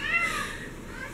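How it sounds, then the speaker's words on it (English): A house cat meows at the ceiling, one drawn-out call that rises and then falls, close and fairly loud, with faint background sound. "The cat's meowing at the ceiling."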